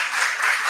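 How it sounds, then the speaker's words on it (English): A conference audience at a talk on artificial intelligence in education claps for the speaker, a brief, fairly faint burst of scattered applause. "a big round of applause to congratulate our speaker"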